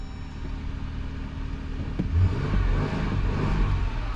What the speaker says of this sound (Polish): No i proszę moi drodzy, autko odpala